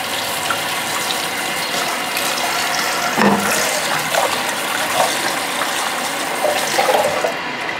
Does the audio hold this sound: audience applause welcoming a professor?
no